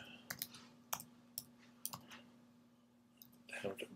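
Sharp, faint computer mouse clicks at a desk, about six spaced taps over a few seconds against a low steady hum, with a brief rustle at the end.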